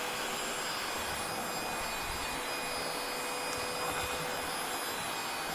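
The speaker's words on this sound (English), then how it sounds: "Excuse the loud sound of my little mini vac here." A small handheld mini vacuum cleaner sucking up sequins from fabric gives a loud, steady, high-pitched whine and rushing airflow close up, continuous for the whole stretch with no talking.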